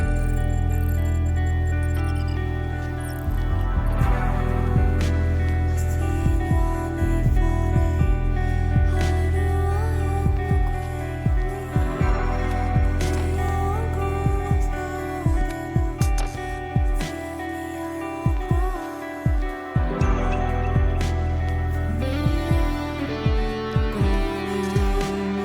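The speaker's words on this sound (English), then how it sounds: "Subtle electric guitar." Layered music from the Stellar Blade Silent Street battle, with steady sustained tones and a soft plucked electric guitar line weaving quietly through, joined by light percussive ticks.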